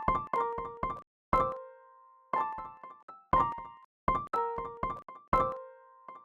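A short piano loop plays dry and unprocessed, with clean plucked-sounding notes and chords in a repeating, evenly spaced pattern, each attack decaying quickly into silence, quiet and alone.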